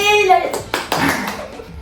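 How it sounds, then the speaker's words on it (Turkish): A short burst of hand clapping for a child after a jump during a dangerous school games challenge, close and lively, with a voice just before it. "Yine de yaptın derine bir alkış alabilir"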